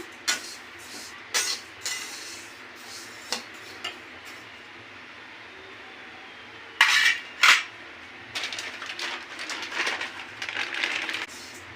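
Sesame seeds are lightly roasted in a pan and stirred with a utensil: scattered metallic clinks and scrapes, a couple of louder knocks, then a sustained gritty rattling of the seeds moving, close by.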